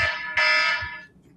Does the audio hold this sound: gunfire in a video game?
no